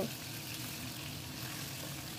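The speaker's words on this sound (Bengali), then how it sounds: "আমি মাছগুলো বেশি না 2-3টে করে করে ভেজে উঠিয়ে নিব।" Chital fish pieces frying in hot oil make a steady, dense sizzle that holds even and close throughout.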